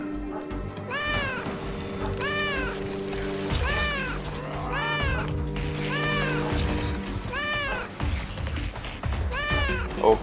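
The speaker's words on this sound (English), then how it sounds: "Enough of the meowing." A cat meows repeatedly in a steady series of rising-and-falling calls, about eight in all, close and clear over a busy background of low hum and mixed noise.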